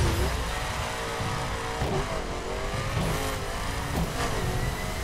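An engine revs hard and accelerates in The Crew Wild Run, with rising and falling pitch sweeps as gears shift, loud and close under a steady roar, with no talking.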